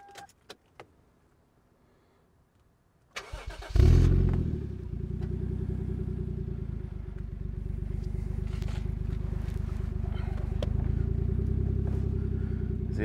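A Toyota Mark II JZX110 with a 1JZ-GTE engine starts after a few clicks, then idles in a steady, close, loud rumble that rises slightly near the end, with no talk over it.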